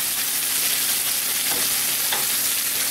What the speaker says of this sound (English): We have to whisk a little bit